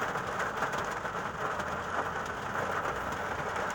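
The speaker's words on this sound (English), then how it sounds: "wish this rain would just go away" Heavy rain pours down outdoors as a steady, dense hiss with a low rumbling undertone, even and unbroken throughout, with no voices.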